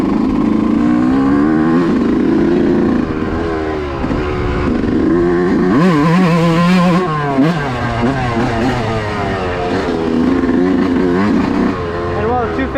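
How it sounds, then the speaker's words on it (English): Yamaha YZ125 two-stroke dirt bike ridden on a trail, its engine loud and continuous with rising and falling revs and a wavering, buzzy pitch, close by throughout. "who doesn't like the sound of a nice running two-stroke"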